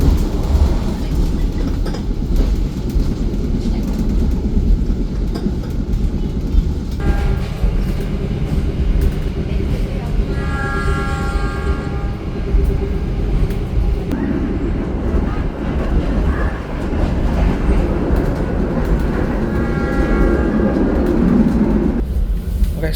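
The Wijayakusuma passenger train from Yogyakarta to Banyuwangi rumbles along from the inside, a loud continuous roar of wheels and carriage with rhythmic rail clatter and occasional squealing tones, steady throughout with no clear talking.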